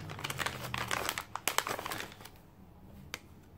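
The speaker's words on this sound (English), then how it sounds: "So I want to take this card out of here for now." A card is slid out of crinkly plastic packaging during a stationery subscription box unboxing, giving close, busy crackling and rustling with a few sharp snaps, which trail off into quieter handling.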